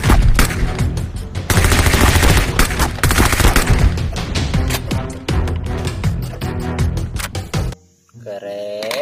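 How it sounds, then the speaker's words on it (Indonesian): Toy gun firing a continuous loud electronic barrage of rapid gunshot and machine-gun effects, harsh and close, ending abruptly with a short descending tone. "di sini ada tembak-tembakan."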